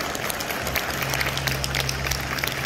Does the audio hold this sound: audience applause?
yes